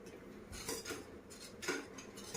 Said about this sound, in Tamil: நல்லா ரவையை நல்லா கிண்டி விட்டு